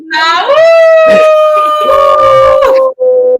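People imitating a coyote howl with their voices: a loud, close, sliding wail that rises and holds, then breaks off briefly before a second shorter howl.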